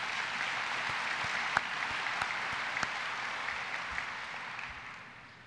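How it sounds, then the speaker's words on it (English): A seated audience at a port's annual address applauds its event team with broad, steady clapping from a sizable crowd. A few sharper individual claps stand out before the sound fades away near the end. "Please join me in a round of applause for all of our team that's done such a great job"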